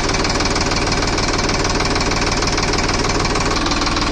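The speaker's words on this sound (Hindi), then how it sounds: "तो दोस्तों हमने ट्रैक्टर को स्टार्ट कर दिया है" A Sonalika 745 III tractor engine runs at a steady, loud idle, its low rhythmic diesel knock and vibration continuous and close throughout, with no talking.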